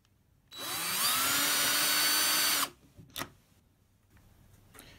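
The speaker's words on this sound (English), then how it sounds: "a special drill bit for drilling centre holes" A power drill whines steadily for about two seconds as a centre-hole bit bores into material, then stops, followed by a couple of light clicks.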